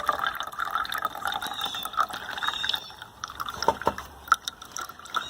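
Water poured from a jug onto bare dirt to mimic rainfall, a soft, uneven trickling and splashing with small drips, fairly quiet and close.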